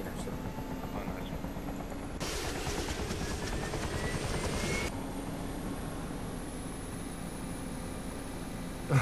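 A helicopter in the game DayZ drones steadily throughout with a constant mid-distance rotor and engine hum, swelling louder for a couple of seconds before settling back, with no speech over it.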